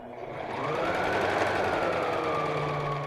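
A sewing machine stitches around a fabric handbag, running in one steady, close, continuous mechanical whir for a few seconds with no talk.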